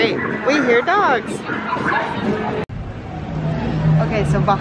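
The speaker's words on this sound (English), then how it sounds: "We hear dogs." Dogs bark and yip in a few close, sharp bursts, with some whimpering mixed in, over background chatter and people talking nearby.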